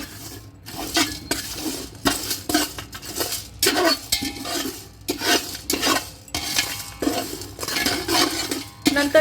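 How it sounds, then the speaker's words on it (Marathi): Whole garam masala spices dry-roasted in an oilless pan over a low flame for a red chilli masala, with repeated scraping and rattling strokes of a spoon against the metal in an uneven stirring rhythm, close and fairly loud. "सगळे तेल न टाकता भाजून घ्यायचे कोरडे, छान बारीक ह्याच्यावर, बारीक मंद आचेवर भाजून घ्यायचे ते."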